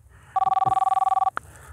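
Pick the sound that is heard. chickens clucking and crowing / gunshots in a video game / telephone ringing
telephone ringing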